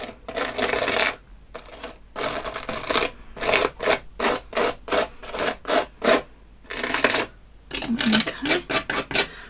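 Gritty paste scraped and spread through a craft stencil, a series of rough rasping strokes in uneven rhythm, close and fairly loud, with short gaps between passes.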